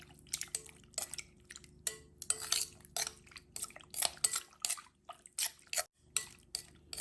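Pork liver igado being stirred in a pan with lemon and a little salt, close rhythmic scraping and clinking of a utensil in repeated short bursts with brief pauses, no talk.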